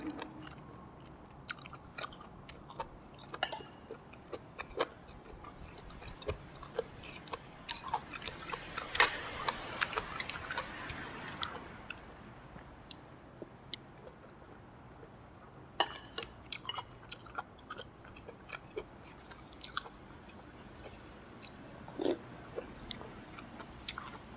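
Close, crisp crunching and biting of fried oyster mushrooms, irregular bites and chews with small clicks, no talking, in a quiet room.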